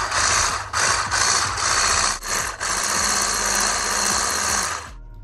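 Electric mixer whipping cream, Greek yogurt and icing sugar together in a bowl: a loud, continuous motor whir with a rattling beater texture, briefly dipping twice, then stopping near the end. No talking.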